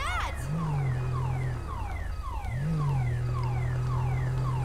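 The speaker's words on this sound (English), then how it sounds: "Sounds like we got a car alarm going off." A car alarm going off in a university campus parking lot in the video game GTA 5, with repeating rising and falling siren whoops and chirps, steady and moderately loud, heard from a short distance.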